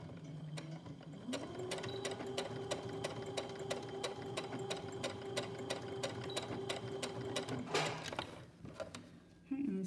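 A sewing machine stitching a rhino mask, a close, steady mechanical whir with rapid needle clatter for several seconds before it stops.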